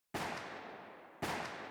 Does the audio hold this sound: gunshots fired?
yes